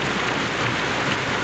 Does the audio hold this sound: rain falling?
yes